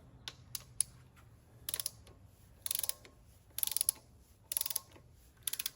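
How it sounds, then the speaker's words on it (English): A torque wrench tightening the rocker arms on an LQ4 6.0 engine gives small, faint groups of ratcheting clicks, with pauses between each burst of turning; no talking. "and now we can torque down our rocker arms."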